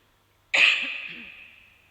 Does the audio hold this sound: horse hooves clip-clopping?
no